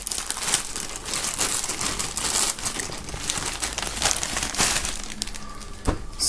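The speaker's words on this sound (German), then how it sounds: "Ich werde das Shirt mal aus der Folie holen." Plastic shrink-wrap film crinkles and crackles steadily as a band T-shirt from an album bundle is pulled free, a dense, close rustling with sharper crackly bursts throughout and no talk.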